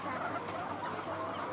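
Chickens on a poultry farm cluck and murmur close by in a continuous, busy flock chatter.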